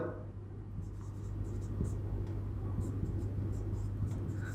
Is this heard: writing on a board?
yes